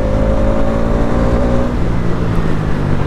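A motorcycle engine drones loudly and close, its pitch sliding down with small throttle blips as gears drop during a clutchless downshift on the road, with wind noise throughout.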